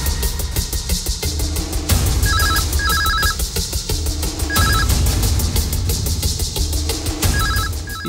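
A telephone rings in repeated electronic trilling bursts over about eight seconds, loud and close over a steady low background rumble.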